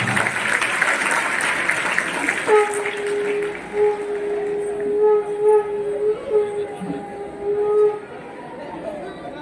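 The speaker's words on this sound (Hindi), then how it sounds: "तो जोरदार तालियों से स्वागत करें हमारे विद्या मंदिर की बहनों का।" An audience at a school stage event applauding to welcome performers, a burst of clapping at the start before a sustained melodic tone and a voice take over, the crowd noise fading behind it.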